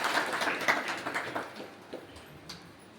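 An audience at a yoga festival gathering applauds, a moderate wash of many hands clapping that fades gradually to a thinner patter, with a few scattered claps at the end.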